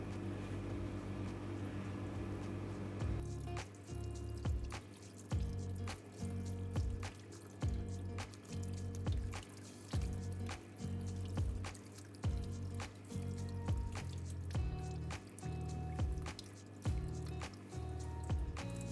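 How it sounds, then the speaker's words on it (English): Bread dough being kneaded and squeezed under running water in a jar to rinse out the gluten, giving wet squishing and dripping sounds in a steady, repeated rhythm, close and fairly quiet. "Why don't we wash the dough and see the gluten?"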